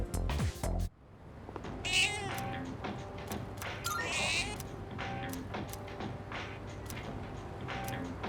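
A cat in the game Persona 3 Reload meows repeatedly, drawn-out plaintive cries standing out clearly over steady game music and ambience.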